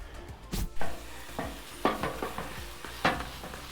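Ground meat browning and being chopped with a spatula on a hot Pit Boss griddle, with a steady close sizzle and several sharp scraping and tapping strikes of the metal tool spaced irregularly.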